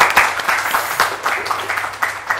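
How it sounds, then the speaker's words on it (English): An audience breaks into applause with scattered cheering for Gul and Shruti at a women's city getaway event; steady dense clapping fills the whole stretch, fairly loud and close. "So huge round of cheer to start off with to Gul and Shruti for"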